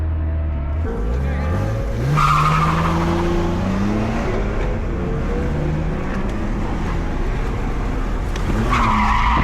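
Tires on a BMW 330Ci screech and skid under hard braking, a loud close squeal amid engine and road noise, rising again near the end, with excited voices around it.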